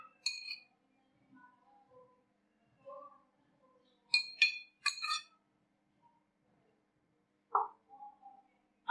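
Fried dahi pakoris (bhalla) going into a serving bowl, giving a few quick, light clinks and taps in short clusters with quiet pauses between them.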